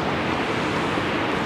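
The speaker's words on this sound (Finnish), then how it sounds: "Kosken kuohuja, kuinka hienot maisemat siinä on." Rushing rapids of a river in a canal park at Vääksy, heard as a dense, continuous roar of water, loud and steady throughout with no voices.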